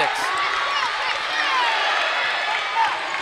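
College basketball crowd in a gym cheering and whooping in a steady, loud roar that swells near the end, with announcers talking over it.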